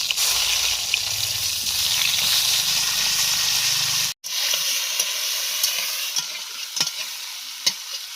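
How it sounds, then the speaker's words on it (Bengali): Eggplant pieces dropped into hot oil in a wok sizzle and crackle steadily, with a brief pause midway before the frying resumes, punctuated by sharp pops and stirring clicks. "কড়াইতে তেলটা গরম হয়ে গেছে। এবার আমি বেগুনগুলো একটা একটা করে দিই"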